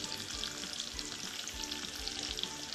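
Steamed dough balls sizzle steadily in a pan over a low flame, tossed with a spoonful of Maggi masala, producing a close, continuous frying crackle with faint stirring.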